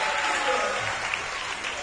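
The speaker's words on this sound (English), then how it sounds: "Big round of applause" An audience at a primary school sports awards night gives a loud, continuous round of applause in an indoor hall.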